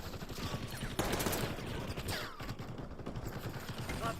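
Faint, distant gunfire in a video game: a steady crackle of rapid shots runs throughout, with one sharper burst partway in.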